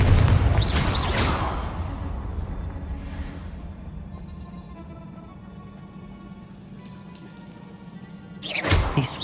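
A Confringo fire spell blast from the video game Hogwarts Legacy: a loud burst at the start that rumbles and hisses down into a long crackling, rain-like tail, then a second sharp whoosh near the end.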